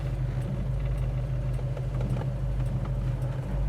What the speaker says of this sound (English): See how nicely the car's idling?